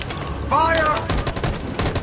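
Gunfire in the video game Detroit: Become Human, a quick burst of shots cut through by a brief shouted voice, fairly close and sharp over a short stretch.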